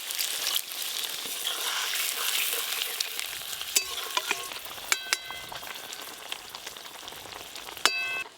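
Begun posto, aubergine with poppy seeds, sizzling in a pan as a little water goes in, a loud hissing crackle that settles into a softer fizz dotted with sharp spattering pops.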